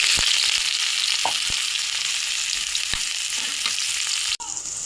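Chopped onions sizzle steadily in hot oil in a pan, along with bay leaves and dried chillies, with a few scraping stirs and a knock near the end.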